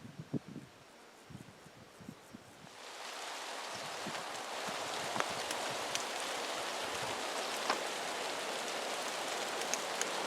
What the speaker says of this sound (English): That's the sound of raindrops.